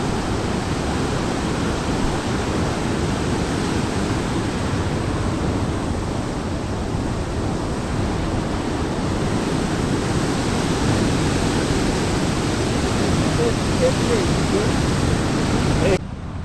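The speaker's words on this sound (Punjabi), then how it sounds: "ਪਾਣੀ ਦੀ ਆਵਾਜ਼ ਬਹੁਤ ਜ਼ਿਆਦਾ ਆ ਰਹੀ ਹੈ" Loud, steady rushing of floodwater at Harike Pattan, Punjab, roaring without pause, a dense broadband wash with no voices above it.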